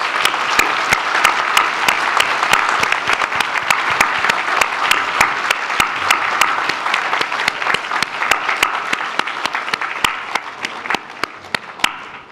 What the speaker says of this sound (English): Let's give them our warmest round of applause.